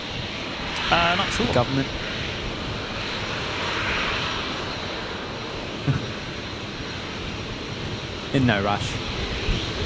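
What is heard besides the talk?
aircraft taking off using the whole runway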